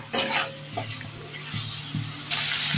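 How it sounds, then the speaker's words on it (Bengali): Small pieces of chicken fry in hot oil, a bright sizzle bursting at the start and swelling again at the end, with muffled stirring thumps in between. "ওই তেলতে আমি চিকেনটা ছোটো ছোটো করে পিস করে নিয়েছিলাম দিয়ে দেবো"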